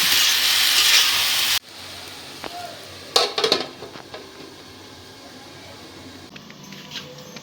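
A spoon stirs salt through vegetables in a pot, starting with a brief burst of sizzling, then scraping and knocking of utensil against metal, with quieter shuffling afterward.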